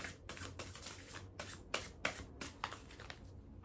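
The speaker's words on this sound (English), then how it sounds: "I'm gonna draw one more and then we'll go in with the Oracle card." Tarot cards being shuffled and drawn by hand, a steady papery riffle punctuated by several sharper snaps and slaps as cards are pulled and laid down, close and fairly quiet, with no talking.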